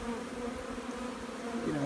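Honey bees buzz steadily inside a small three-frame hive, a close, continuous hum with a low drone that holds level and swells slightly near the end.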